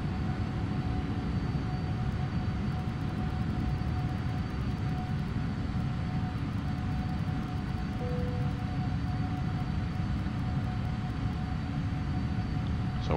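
Simulated Boeing 777-300ER engines drone steadily as the airliner climbs after takeoff in a flight simulator, a continuous broadband jet roar with a faint tonal whine, heard alone without talk throughout.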